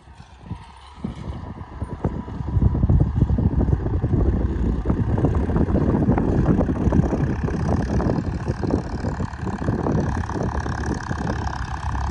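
A Farmtrac 60 tractor's diesel engine runs pulling a harrow, a loud, steady rumbling drone with a rattly, clattering texture that starts low and builds within the first few seconds.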